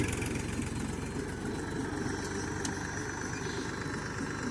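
A tractor engine runs steadily as it turns in an open field, a continuous low, close drone with a faint mechanical rattle and no voices.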